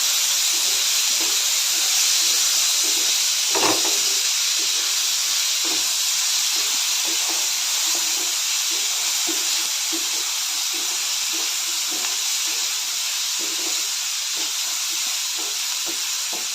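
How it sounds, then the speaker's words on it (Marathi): Chana dal and onions sauté in a pan, a constant broad hiss of frying with faint, regular scraping strokes of a spatula scattered through it, steady and close throughout. "हरभऱ्याची डाळ एक दोन मिनटं कांद्यामध्ये आपण चांगलं परतून घेऊया"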